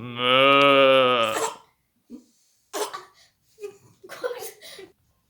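A person imitates a cow with one long, sustained moo, followed by a few brief breathy sounds and faint vocal noises.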